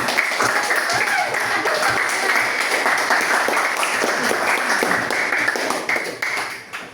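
An audience applauds during a school counseling teachers' training session, a dense steady wash of many hands clapping that holds at even volume before tapering off at the end.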